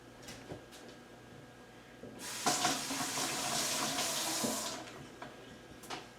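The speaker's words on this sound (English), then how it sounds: "Let me just rinse my hands off." Hands are rinsed under a running kitchen tap after making a Waldorf salad. The water gushes steadily for about two seconds, with faint handling sounds before and after.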